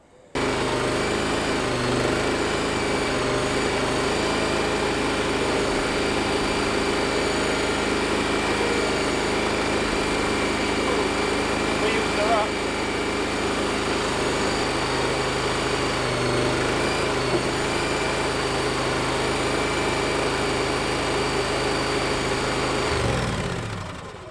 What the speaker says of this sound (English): It's going to be very interesting indeed to see if the Avant can lift this whopper in here.